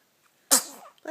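Young child gives a single sharp sneeze, close and sudden after near silence, followed by a brief breathy tail and a small vocal sound.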